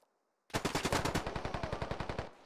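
A burst of rapid automatic gunfire in the video game SquadOps, about fifteen evenly spaced loud shots in a steady rhythm lasting around two seconds, starting abruptly after silence, with no talking.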